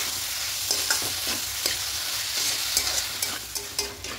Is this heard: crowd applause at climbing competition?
no